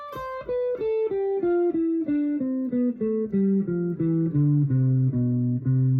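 Clean electric guitar plays a smooth legato lick, notes flowing in a descending run before settling on a sustained low note.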